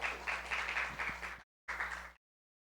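Brief applause from a small audience at a Brazilian panel event on ESG and green innovation, moderately faint, running about a second and a half, breaking off, then a short second burst before silence.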